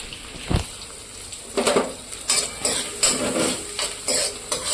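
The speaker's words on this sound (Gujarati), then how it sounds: "આમાં આપણે નાખીશું ડુંગળી એને સાંતળવા દઈશું થોડીક વાર" Onions sauté in a pan, a low frying sizzle punctuated by several loud spatula scrapes and clinks against the metal as they are stirred, close up and without talk.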